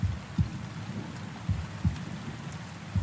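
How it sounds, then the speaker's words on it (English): Heartbeat sound effect within a metal song, a few deep, muffled low thumps spaced irregularly over a dark, rumbling background wash. "Got the heartbeats"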